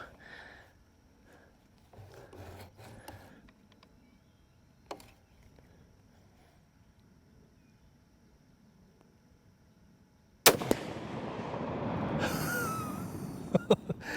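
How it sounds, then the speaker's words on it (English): A .50 BMG blue-tip round is fired at aluminum: after a long, nearly quiet lead-in, a sudden loud, sharp blast erupts near the end and leaves a dense, noisy tail. "this is another blue tip"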